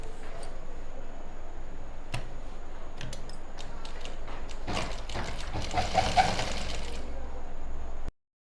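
A sewing machine stitches lining fabric for a pair of pants, running in a steady close whir with a few light ticks and a short louder run before it stops abruptly.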